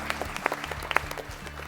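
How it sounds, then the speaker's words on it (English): Brief burst of audience applause at a school quiz event after a team's score is announced, scattered hand claps from a modest crowd lasting under two seconds. "Let's clap for them, please."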